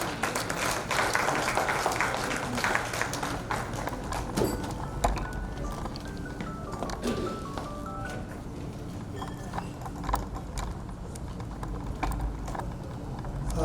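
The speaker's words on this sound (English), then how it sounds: "And a round of applause to usher him in, please." An audience claps to welcome a speaker to the microphone at a Rising Sun outreach event in Boston, Massachusetts, producing a sustained wash of applause that thins out over several seconds.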